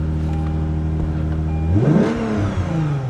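A BMW ZHP sedan's engine with Dinan tuning revs up sharply from a steady idle, climbing to a loud roar before settling back, close and clear with no talking.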